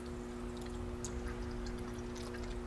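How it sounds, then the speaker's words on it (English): Water is poured into a car's cooling system in a quiet, steady, faint trickling stream, with a constant low hum underneath and no one speaking. "So I'll just fill it up with water."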